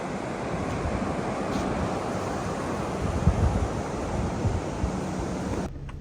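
Steady roar of surf washing onto the wide beach at Thornton Bay, North Queensland, broad and continuous with a breezy hiss, no voices.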